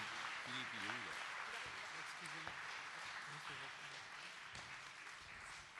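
Applause at a New Year's greetings ceremony in Boissise-le-Roi, a fairly soft, continuous crackle of many hands clapping, with a voice talking over it throughout.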